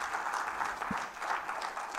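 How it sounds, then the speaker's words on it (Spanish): A church congregation at a Thanksgiving service claps and applauds together, a continuous, fairly even wash of clapping with a brief low thump partway through. "Dale palmas al Señor"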